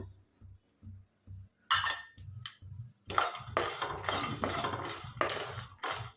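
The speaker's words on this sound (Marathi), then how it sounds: "बी मस्त भाजले बघा, कसा आवाज यायला आलाय, चटचटायला आलाय" Peanuts and sesame seeds dry-roasting together in a pan on a home stove, giving scattered crackling and sizzling bursts that grow denser and louder in the second half, with faint low rhythmic thumps early on.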